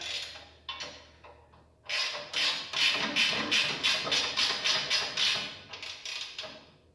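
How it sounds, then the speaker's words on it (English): A wrench tightens a nut on a Ferris chute blocker, giving a rapid regular series of about a dozen close ratcheting clicks after a few scattered taps. "Put the nut on, use your wrench."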